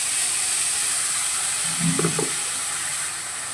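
Ginger, garlic, onion and green chili paste hits hot oil already holding bay leaves and dried red chilies, making a steady, loud hissing sizzle with a brief spattering flare midway.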